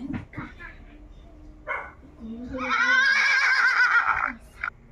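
A recorded horse neigh played from a talking Bhagavad Gita book, a loud, wavering whinny lasting about a second and a half, preceded by a voice talking and a few short clicks.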